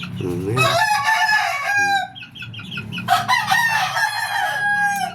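Young gamefowl chickens, a young rooster and two hens: close, loud, repeated hoarse crowing with clucking between the crows, and someone talking quietly underneath.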